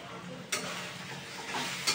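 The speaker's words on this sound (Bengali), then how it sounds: "ঝিঙে দিয়ে এবারে একটু কষিয়ে নিচ্ছি" Ridge gourd sautéing with potatoes in a hot pan for rohu fish curry, a soft sizzle and hiss with a couple of sharp stirring scrapes, close and quiet.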